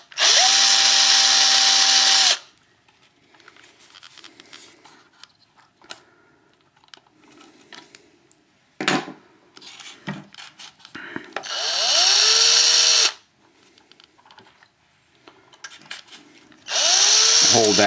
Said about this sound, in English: back drill one of these back holes